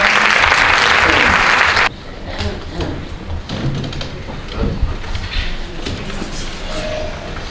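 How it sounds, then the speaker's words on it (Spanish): An audience at a Constitution Day ceremony gives a burst of dense applause for the music band, lasting about two seconds before cutting to quieter room noise with scattered clatter. "Y pido un gran aplauso para nuestra banda de música."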